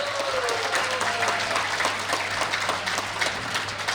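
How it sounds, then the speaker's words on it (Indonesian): An audience applauds after a live music performance at a Buddhist Dhamma youth event, a dense, continuous wash of many hands clapping at steady loudness, with a voice briefly heard at the start. "Boleh dong tepuk tangannya sekali lagi teman-teman yang paling meriah."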